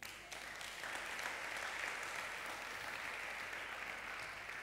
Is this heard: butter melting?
no